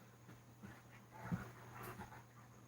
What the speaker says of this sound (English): What are these dogs doing?